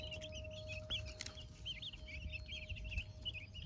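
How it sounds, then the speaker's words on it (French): Chicks peep in high, busy chirps while chickens cluck nearby, a constant chorus of small bird calls over a faint steady hum from the coop, with quail kept close by. "Là on a les poussins, là on a les cailles."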